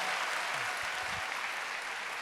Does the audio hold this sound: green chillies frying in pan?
no